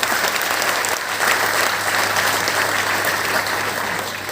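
An audience at a business talk bursts into sustained, dense clapping that holds evenly throughout and eases slightly at the end, with no voices over it.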